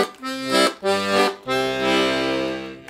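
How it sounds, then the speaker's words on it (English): A vintage Venuti piano accordion plays on its single bass register, giving a rich, buzzy low reed tone in three swelling pulses, the last held longer. "And one register in the bass, it sounds like this."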